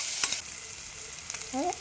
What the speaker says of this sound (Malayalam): കുറച്ച് മത്തിയും അതിൻ്റെ ഇണറും കൂടെ ഞാൻ പൊരിക്കാൻ വേണ്ടി വെച്ചിട്ടുണ്ട്